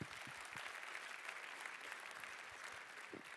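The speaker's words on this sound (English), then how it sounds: "So give yourself a round of applause." An audience at a pitch competition event claps continuously, a faint and even round of applause with no one speaking over it.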